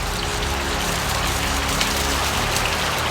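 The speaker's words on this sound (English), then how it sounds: "We're getting a little raindrop from the outside" Rain falling outside beside an outdoor fireside cooking spot, a dense, steady hiss of drops on surfaces that runs constantly and fairly loud, with no talking.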